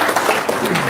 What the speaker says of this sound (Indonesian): tepuk tangan dong, Kalimantan